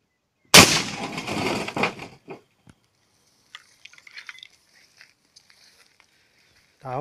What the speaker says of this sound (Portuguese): Vou atirar naquela chapa ali, mais do lado esquerdo.